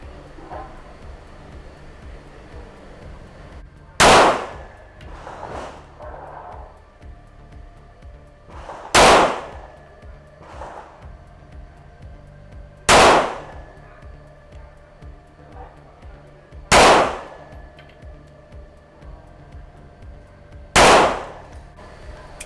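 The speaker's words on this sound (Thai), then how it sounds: "ลูกที่ใช้ก็คือ LRN หรือ Round Note นะครับ 115 เกรน ลองดูนะครับ กับตัว ปืนกระบอกนี้ ยิงไปที่เป้าทางด้านขวานะครับ" Five loud, sharp shots from a Smith & Wesson M&P9 M2.0 Metal 9mm pistol firing 115-grain lead round-nose rounds at a target, spaced about four seconds apart with quiet range ambience between.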